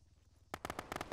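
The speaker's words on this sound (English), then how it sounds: "he's shooting at me." Video game gunfire: a rapid burst of sharp, loud shots starting about halfway through, in uneven clusters after quieter background sound.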